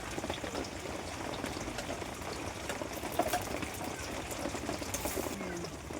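Onions and green chilies frying in a pan as they are stirred, giving a steady, dense sizzle up close with faint scraping, and a voice speaking quietly beneath it.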